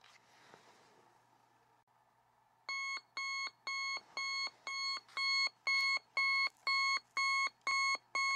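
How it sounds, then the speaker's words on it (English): A Sony Dream Machine ICF-C111 clock radio alarm buzzer sounds a steady series of about a dozen loud, evenly spaced electronic beeps, following a quiet moment of faint handling noise. "I am going to set the alarm to show you how it works."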